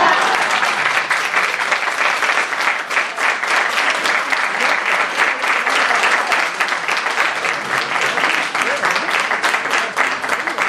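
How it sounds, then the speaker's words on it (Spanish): A hall audience gives long, loud, sustained applause for the 2024 fallera mayor, Raquel García Salazar, at her formal exaltation ceremony. The thick, steady clapping runs unbroken, with faint voices mixed in. "Un fuerte aplauso para ella."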